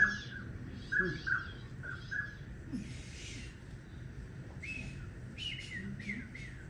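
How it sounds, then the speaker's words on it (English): Repeated short high peeps and whistles over a low rumbling background, some calls close together, others spaced apart. "Sounds like a frog. It's a more of a peep and a whistle."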